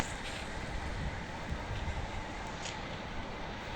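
A train rolling past in the Free Fire video game, a steady low rumble and rattle of rail cars, fairly faint and continuous with no voices.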